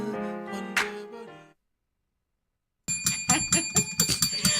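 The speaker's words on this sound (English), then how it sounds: "I've been hearing that bell" A small pink bicycle-style bell rings in a quick run of repeated bright dings after a brief silence, following an earlier stretch of ringing tones.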